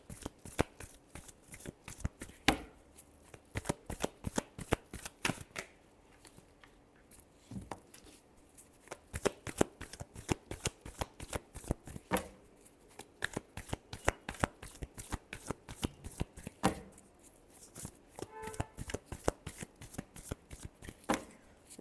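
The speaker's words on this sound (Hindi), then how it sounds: "last shuffle" Tarot cards shuffled by hand in quick, dense bursts of papery riffling and snapping, close and crisp, continuing in uneven waves with brief pauses and no talking.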